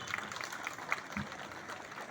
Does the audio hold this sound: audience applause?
yes